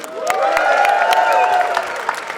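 Audience at a Rutgers climate rally clapping and cheering steadily for a faculty union speaker, a dense wash of applause from a nearby outdoor crowd that holds throughout with a few louder individual claps.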